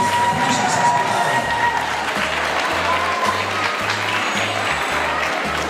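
Full, sustained crowd applause with cheering for the 2014 Pubilla candidates at a popular dinner event, loud and unbroken throughout.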